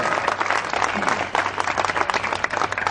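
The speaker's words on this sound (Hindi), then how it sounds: "मैं चाहूंगा जोरदार ताली बजाकर उनका अभिनंदन करें" Enthusiastic applause from an audience at a public ceremony in Indore honouring Amardeep Maurya, dense steady clapping throughout with slight swells, loud and close, no talk over it.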